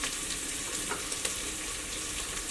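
Ingredients for a Kerala-style chicken curry frying in a pan with tomato, giving a constant dense sizzle with faint stirring scrapes, close and steady throughout, no voices.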